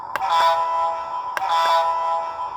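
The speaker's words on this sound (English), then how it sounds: "let's hear the horn" A Lionel O-Gauge Iron Arry toy train sounds its electronic horn, a sustained tonal blare with two distinct onsets about a second apart, close and clear with no speech.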